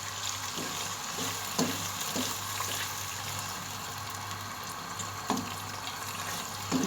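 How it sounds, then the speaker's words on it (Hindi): Water pours into a pan of spinach mutton masala frying on the stove, turning into a continuous sizzling hiss with a few stirring clinks, heard close and fairly quiet with no voices. "अब हम इसमें थोड़ा सा पानी डालेंगे।"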